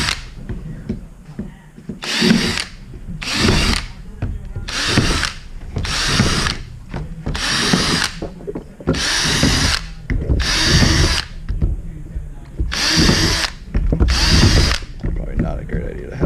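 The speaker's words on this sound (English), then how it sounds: "Just hold your hand on the top and start drilling your pilot holes." Power drill boring pilot holes into a plastic boat hatch, about ten separate bursts of high whirring, each a second or so long, with quiet handling noises between.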